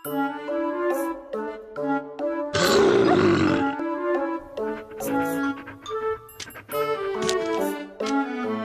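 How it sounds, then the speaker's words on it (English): Roar in a pet doctor puppy rescue video game: a harsh, noisy animal roar bursts out for about a second amid bright, plinking game music and chimes, clearly louder than the surrounding tones. "Roar to threaten those bad dogs away!"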